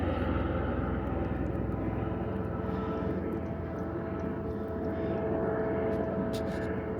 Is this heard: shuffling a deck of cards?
no